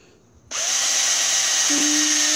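A power drill starts abruptly and runs loudly and steadily while boring a hole, its high whine continuing close up to the end.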